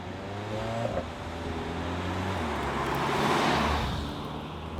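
A 2019 Volkswagen Tiguan R-Line Sport engine accelerates hard through the gears, its steady rising drone dropping in pitch at each shift before climbing again, loud and close throughout.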